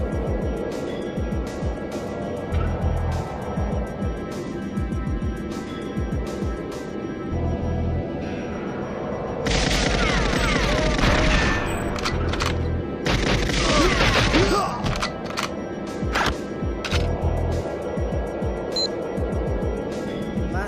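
Gun reload effects from the N64 shooter GoldenEye 007 play as a run of crisp mechanical clicks and clacks, with a few louder clustered bursts midway, set over steady game background sound with no voices.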